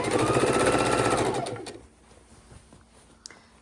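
A sewing machine stitches two pieces of quilt fabric together for a Christmas quilt, running in a fast steady whir for under two seconds before stopping, followed by quiet room tone.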